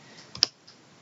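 A computer mouse clicking while editing a drawing in 2D Design software, heard as one sharp, close click with a couple of softer clicks around it.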